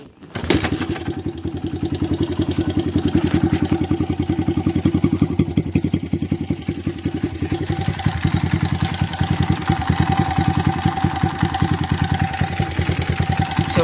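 A 2004 Honda CRF100F motorcycle, freshly serviced with an oil change, starts and settles into a steady close idle, its single-cylinder engine putting out an even rapid chug with no talk over it.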